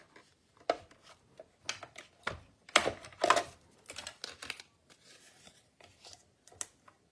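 Scissors snipping through card paper while a butterfly window card is cut out, a series of short crisp cuts and rustling paper handling, close and fairly quiet, with a louder burst of cutting in the middle.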